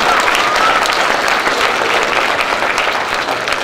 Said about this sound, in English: another applause for our lovely Annies.